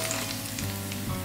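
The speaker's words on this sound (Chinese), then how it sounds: "现在把蒜头姜炒香" Garlic and ginger frying in oil in a wok, a dense close sizzle with faint stirring, brief and steady.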